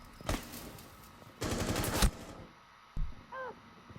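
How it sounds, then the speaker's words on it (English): Gunfire in the video game Rainbow Six Siege as shots go through a wall, with sharp single shots and a dense rapid automatic burst, close and punchy, with brief gaps between. "He doesn't know you can shoot through the wall."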